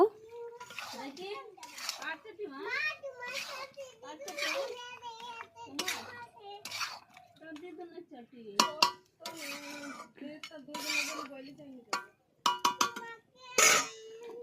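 A metal spoon stirs fried potato and papaya into mutton in a cooking pot, with scattered clinks and scrapes against the pot. Frequent talking runs over and between the clatter.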